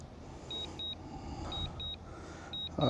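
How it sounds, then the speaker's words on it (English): A DJI Mini 4 Pro drone gives short high-pitched electronic beeps in pairs roughly once a second over a low rumbling hum, with a soft thud at the end. "Sorry about the beeping noise"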